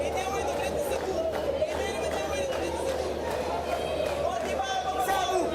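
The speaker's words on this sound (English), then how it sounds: "for a Monday afternoon, big old crowd here as well" A big afternoon crowd at a Little League Baseball World Series game between Curaçao and Venezuela, a steady, distant murmur of chatter and cheering that runs throughout under a faint broadcast hum.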